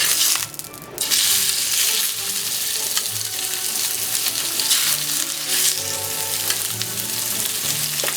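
Pork chops sizzle loudly in vegetable oil in a pan over medium-high heat, a steady hiss and crackle that barely lets up throughout.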